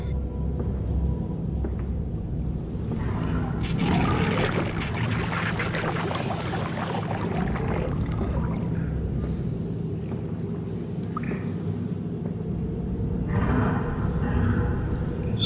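Water floods through a sluice area in Amnesia: A Machine for Pigs, a steady low rushing rumble with bursts of splashing and churning that swell and fade.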